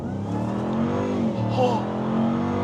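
A 2025 RAM TRX Final Edition truck engine revs loudly and close, its deep growl rising and falling over a few seconds, with someone talking over it.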